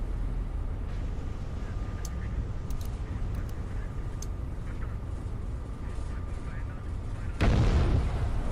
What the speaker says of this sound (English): So one of my escorts is opening fire.